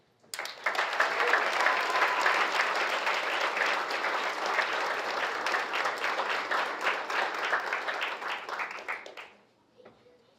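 Sustained applause fills a reception hall to honor academic honors program students, a dense, steady roar of many hands that begins abruptly, holds for about nine seconds, then fades quickly to quiet.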